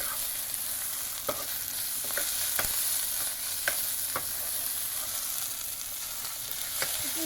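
Garlic cloves frying in a pan hiss with a steady sizzle, while a utensil scrapes and taps against the pan at irregular intervals.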